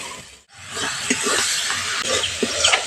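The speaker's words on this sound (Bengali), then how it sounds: "মাঝারি থেকে হালকা আঁচে মশলাটা কষিয়ে নিতে হবে" Spice paste for a jackfruit curry fries in a pan over medium-low heat, giving a steady close sizzle and hiss with small bursts of spitting and brief stirring scrapes.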